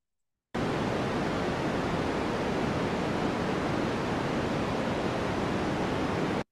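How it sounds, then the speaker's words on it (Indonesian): A recording of white noise plays for about six seconds as a steady, loud, evenly spread hiss that starts abruptly after a brief silence and holds constant until it cuts off. "Ini white noise nih."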